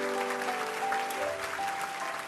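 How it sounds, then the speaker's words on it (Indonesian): A church congregation at a sermon applauds in a dense, continuous wash of clapping, while a sustained tonal hum, likely instruments, sounds steadily underneath. "Kasih tepuk tangan untuk Tuhan Yesus."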